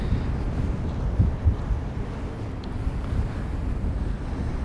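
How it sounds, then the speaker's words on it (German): Strong, constant wind buffeting the microphone outdoors in South America, a dense low roar with gusty swells throughout and no voices. "das ist so dermaßen windig."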